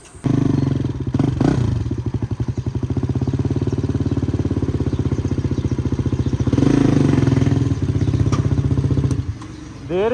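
A motorcycle with a modified, slightly drilled silencer fitted with a larger ring idles and revs nearby, its exhaust firing in a rapid loud staccato popping that swells and eases over the stretch.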